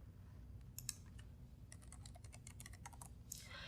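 Fingers type a short word on a computer keyboard, a quick burst of faint, close key clicks over a low background hum, with no voices.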